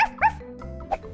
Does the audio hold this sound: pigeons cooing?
no